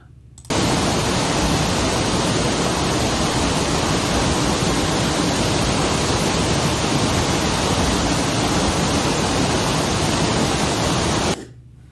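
Dry Falls in North Carolina roars as a dense, constant broadband rush of falling water, loud and close, holding steady without a break for the whole stretch.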